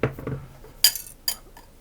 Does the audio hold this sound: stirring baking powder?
yes